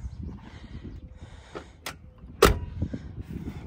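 Door of an OBS Ford truck shuts with a single sharp, close slam, preceded by faint handling clicks and rattles at low level.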